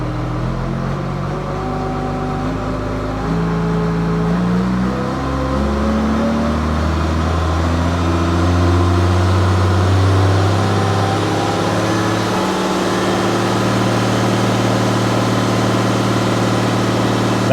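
A 1996 BR-275 MP snow groomer engine runs continuously, its steady drone shifting in pitch as the throttle is pushed up and then eased back. The engine is heard alone, with no talking.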